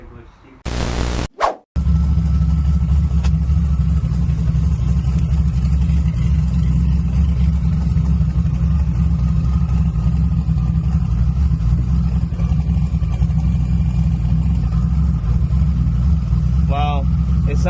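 A Nissan 300zx engine with a leaking intake manifold gasket runs steadily up close, giving a constant low rumble and hum, with a brief loud burst near the start and occasional faint background voices.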